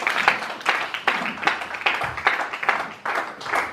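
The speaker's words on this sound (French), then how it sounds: "Bénissons la parole de Dieu par nos acclamations." A church congregation at a Sunday service claps steadily in a fast, even rhythm, the applause filling the room at close range with no speech over it.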